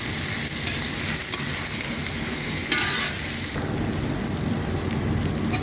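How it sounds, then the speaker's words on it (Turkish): Soaked rice for chickpea pilaf being stirred in a pot with butter, a dense continuous rushing sizzle with a brief louder scrape partway through, close and steady. "Şöyle pirincimizi şöyle boşaltıp karıştırıyorum"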